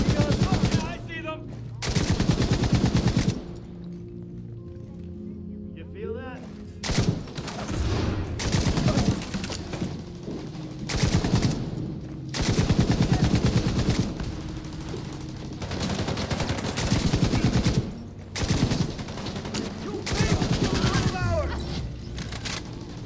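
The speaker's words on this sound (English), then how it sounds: "They're using a turret!" An enemy turret fires in The Division 2, with dense, loud bursts of rapid automatic gunfire that repeat in long stretches with brief pauses, while voices speak intermittently underneath.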